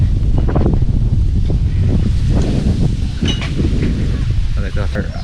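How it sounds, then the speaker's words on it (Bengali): Strong wind buffets the microphone throughout on a hill village on a rainy day, with a continuous low roar and gusty rumble, while a voice speaks over it. "এখন বাতাস দিচ্ছে আনুমানিক"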